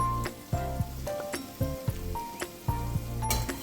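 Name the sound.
dahi bhalla lentil dumplings frying in oil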